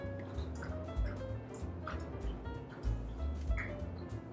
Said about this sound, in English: Da Vinci decided he wanted to drink some water right now.